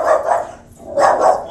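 A dog barks at passing bicyclists, two quick pairs of sharp barks close by, separated by a short pause.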